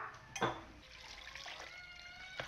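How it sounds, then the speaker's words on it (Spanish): A little water splashes into a blender jar in a kitchen, a short pour near the start followed by faint trickling under a low background hum. "Le agregamos un poquito de agua."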